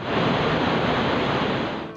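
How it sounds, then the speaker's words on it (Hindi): Floodwater rushes along a national highway where a trailer was swept away, a dense, steady roar of churning water that stays loud and unbroken throughout, with no voices. "ट्रेलर सैलाबी पानी में बह गया।"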